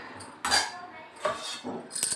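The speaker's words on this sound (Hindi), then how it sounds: "इसे मैं बीच बीच में चलाती रहूँगी ताकि चावल बैठे ना और बर्तन में ना लगे।" A metal spoon stirs rice cooking in a pot, giving a few separate scraping clinks and knocks against the vessel with brief quiet gaps between strokes, close up.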